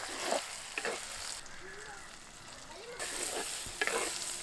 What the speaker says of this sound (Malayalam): അരപ്പ് ചേർക്കാൻ പോവുകയാണ്.